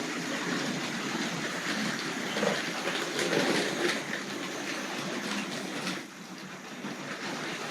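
A Tri-ang model train runs along its rails with a steady, continuous rolling rumble and clatter, loud and close, with no talk over it. The running dips slightly in level toward the end.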